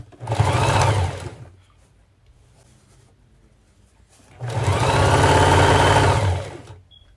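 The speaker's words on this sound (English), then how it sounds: "You continue, then you keep stitching." Electric sewing machine stitching a fabric head wrap, two loud close bursts of rapid, steady needle chatter, the first short and the second longer, separated by a quiet pause with only faint fabric handling.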